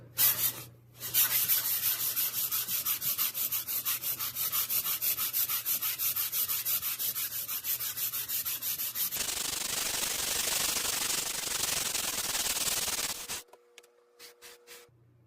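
An orbital sander running a sandpaper disc over a workpiece makes a loud, steady, close grinding rasp with a rapid flutter. Partway through the tone grows harsher and brighter, then the sander cuts off near the end.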